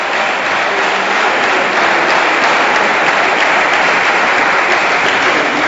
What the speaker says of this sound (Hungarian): Háttérben az Overwatt játékosa Simon Ferenc is tapsol a hazaiaknak és a saját csapattársának.